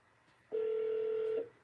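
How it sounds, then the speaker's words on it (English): A calling tone on an Alexa smart speaker sounds once, a steady electronic beep lasting close to a second, clear and alone against a quiet room. "I have to call him back through my Alexa because I'm using my phone to stream with"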